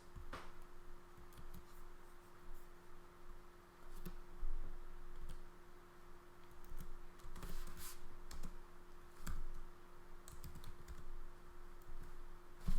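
Steady clatter of code being typed on a computer keyboard, with irregular bursts of key clicks over a low constant hum, close and fairly quiet, no voices.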